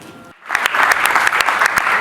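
Wedding reception guests applauding a newly announced couple: after a brief quiet moment, loud, close clapping from many hands breaks out and carries on steadily to the end.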